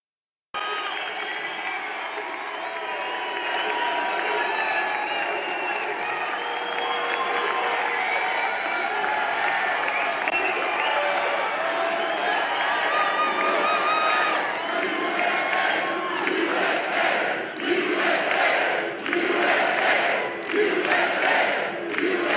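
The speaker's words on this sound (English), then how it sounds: "Oh, this is some crowd." Large political rally crowd in Atlanta, a long roar of cheering and shouting that builds into rhythmic chanting and applause pulses toward the end, loud and close.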